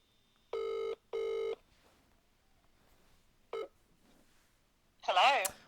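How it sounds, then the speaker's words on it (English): Two long touch-tone dialing beeps on a phone, then a short third tone, before a call connects live on an ITV1 radio-style broadcast; a faint voice comes in near the end. "You have to call her off your phone"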